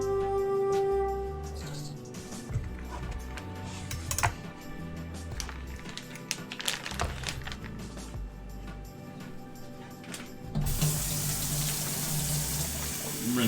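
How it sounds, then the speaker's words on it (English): A kitchen tap runs as a bag is rinsed out while preparing steak au poivre. Scattered clicks and handling noises come first, then a loud, steady gush of running water takes over for the last few seconds. "Rinse out the bag here so we don't get the bugs interested in it."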